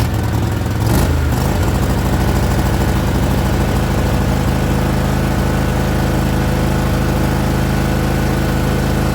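A John Deere riding mower engine starts with a brief burst, then runs steadily at full throttle, a loud continuous mid-pitched drone with no talking.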